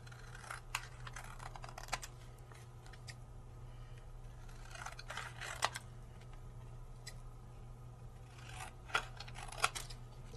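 Scissors trimming paper freehand at a craft table, a few short crisp snips scattered through the clip over a steady low background hum, with no talking.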